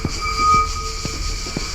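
Rolling train in the video game The Ghost Train: a steady rumble of wheels on rails with periodic clacks from the track joints and a faint high tonal whine, heard alone with no talk.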